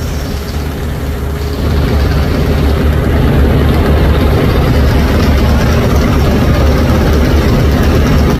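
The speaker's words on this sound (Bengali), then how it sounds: "ইঞ্জিনকে খুব স্পিডে চালিয়ে রাখা হয়েছে" The engine of the passenger launch Prince Sakin, run at very high speed, gives a loud, close, unbroken drone with a deep rumble and a steady mechanical roar throughout. No talking is heard.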